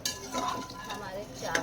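Chopped dry fruits frying in a pan, faint sizzle with light stirring scrapes and a couple of utensil clinks against the pan near the end.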